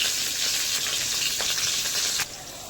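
Steady, loud sizzle of meat frying with spices, cooked with purple cauliflower, with a couple of stirring scrapes and a sudden drop in level near the end, no voices.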